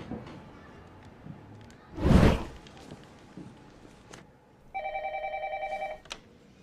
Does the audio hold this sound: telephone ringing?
yes